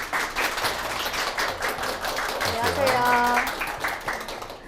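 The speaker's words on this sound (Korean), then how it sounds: "코치님을 큰 박수로 자리에 모셔볼게요" Clapping from a lecture-show audience welcomes a life coach to the stage, brisk claps that then fall under a greeting from the speaker.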